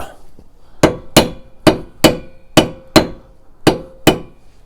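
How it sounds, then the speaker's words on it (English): Eight sharp metallic hammer strikes ring out at an uneven, deliberate pace, each clanging briefly and close against a part on a crashed salvage Fiat 500 under repair. "I'm going to get a hammer just to give it a little tap."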